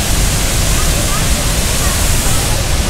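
A waterfall at a crowded tourist spot in Bali roars as steady, loud broadband rushing water, unbroken throughout, with a busy crowd mingling beneath it.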